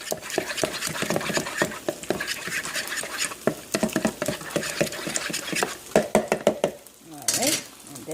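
Eggs are beaten in a bowl for an eggplant omelette, with quick rhythmic tapping and scraping strokes close up that run steadily before a short pause and a last few strokes.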